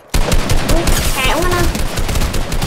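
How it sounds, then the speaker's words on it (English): Gunfire in the video game Fortnite during a shootout with two opponents, a loud dense rattle of rapid shots that carries on throughout, with talk faintly underneath. "I'm shooting them. Oh, they're shooting back."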